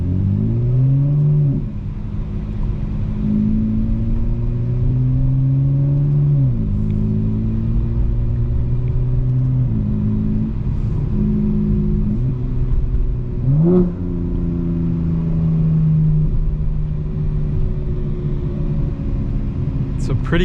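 A 2025 BMW M4 Competition xDrive engine drones loud and close, its pitch repeatedly climbing and dropping as it revs against the limiter during drifting, with a sharp blip midway.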